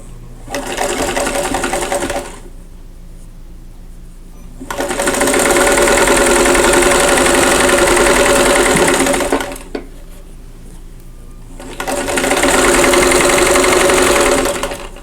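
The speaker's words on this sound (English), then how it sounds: "And now I need to sew on the other 2 corners." A sewing machine stitches the corners of a folded star quilt block, running in three steady, close bursts of mechanical whirring and rapid needle chatter separated by short pauses.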